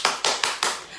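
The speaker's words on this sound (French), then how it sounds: "Vous applaudissez." Four crisp hand claps in quick, even succession, loud and close, with no voices.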